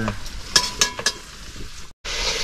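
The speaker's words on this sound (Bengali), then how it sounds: "তেল গরম হয়ে গেছে, পেঁয়াজ দিয়ে নিচ্ছি।" Onions drop into hot oil in a pan over a smoky wood fire in the forest, setting off a loud hiss and crackle, with a few sharp stirring scrapes, a brief break, then steady sizzling.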